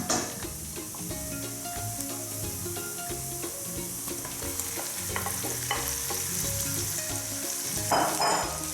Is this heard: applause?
no